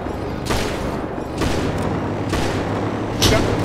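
Gunfire in the street-crime video game GTA 5 sounds in several sharp, loud bursts spaced about a second apart over a steady background hum, each shot ringing briefly.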